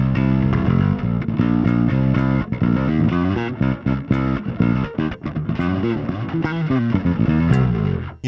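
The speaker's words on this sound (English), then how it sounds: "So what I've got now is a mix of, the clean signal and the distorted signal" A bass guitar with clean and distorted signals blended plays a busy run of notes, keeping a sharp attack on each note under a gritty drive, loud and close with no voice.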